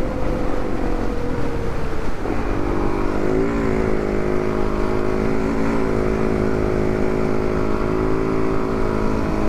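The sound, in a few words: Yamaha WR450F dirt bikes riding on sand, Fraser Island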